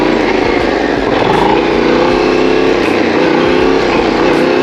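Motorcycle engine with the throttle dropped in second gear to coast, a steady loud drone heard up close with no speech over it.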